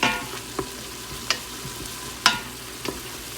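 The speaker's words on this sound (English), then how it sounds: "these are sauteing up really nice." Frozen peppers sauté in a hot pan, a soft steady sizzle broken by a few distinct clinks and scrapes of stirring.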